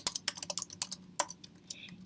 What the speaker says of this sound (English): You can do that by typing where it says Untitled Document.